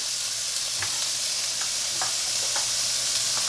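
Beef burger patties sizzle steadily inside a NuWave Primo grill oven, a constant close frying hiss with a few faint clicks and knocks scattered through it and no talking.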